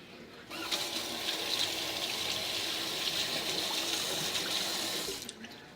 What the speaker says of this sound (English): I gotta wash my hands again